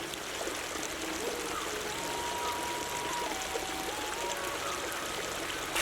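A forest stream runs in a continuous bright rush of water, steady and fairly close, with small trickling details and no pauses; a faint whistle-like tone drifts through the middle.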